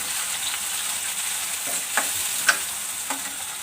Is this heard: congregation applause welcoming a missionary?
no